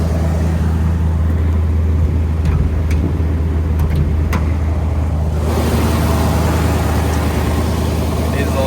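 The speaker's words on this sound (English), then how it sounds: "let's go ahead and look under the motor here while we got it fired up" A 1971 Ford Bronco's engine idles steadily close by, a constant low rumble lasting throughout, with some faint clicks and a slight shift in tone partway through.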